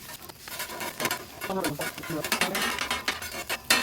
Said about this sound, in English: Now we'll start with our eggs. Scramble them up a little bit.